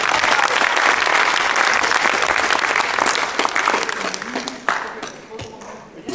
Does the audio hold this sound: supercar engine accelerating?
no